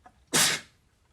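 A single sharp sneeze bursts out loud and close, then fades quickly into quiet.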